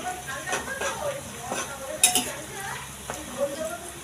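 Curry leaves and coriander leaves sizzle in hot oil in a pan, a soft continuous frying hiss broken by scraping stirs and occasional clinks of a utensil against the pan.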